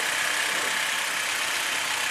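A 1943 Jeep GPW engine idles steadily just after a head gasket replacement, a continuous, even running hum with a broad hiss, heard alone without talk.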